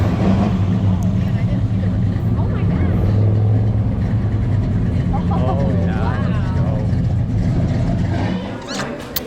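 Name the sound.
cars from a car show driving out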